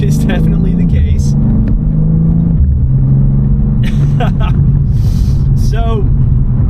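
A BMW G87 M2 with M4 CSL tuning drives under load, its engine rumbling low and steady through firm gear shifts while someone talks over it.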